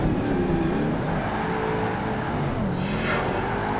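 Racing game engines from Project Gotham Racing 2, an old Mustang among the muscle cars, roar steadily and loudly with shifting revs and pitch sweeps as the cars push through a track, no voices.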